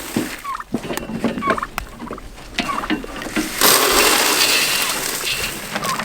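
Several turkeys gobble in short bursts, fairly close, amid clanking and rustling, followed by a louder stretch of broadband noise.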